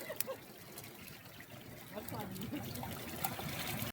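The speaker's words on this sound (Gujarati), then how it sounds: "તો મિત્રો ધોધમાર વરસાદ ચાલુ થઈ ગયો છે, તમે જોઈ શકો છો." Heavy rain falls outside a camper van in a soft, steady wash of water with faint trickles and patters, heard from inside at low volume.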